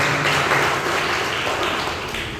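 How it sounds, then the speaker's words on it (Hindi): Audience applause at a Buddhist training camp event in Varanasi, steady dense clapping filling the whole span, moderately loud and without pauses. "एक बार और जोरदार ताली से स्वागत करें"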